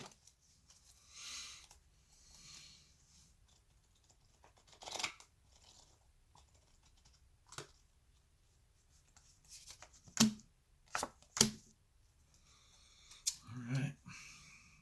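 Tarot cards riffle and slap together in several short, crisp bursts separated by quiet pauses, recorded close up.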